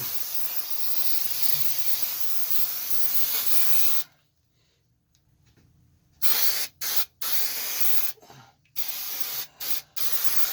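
Spray adhesive coat applied to the floor of a custom C10 truck for carpet pad, loud close hissing bursts, one long spray, then a pause and several short sprays.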